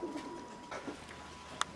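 Pigeons coo softly and intermittently, faint and low in a quiet space, with a brief sharp click near the end.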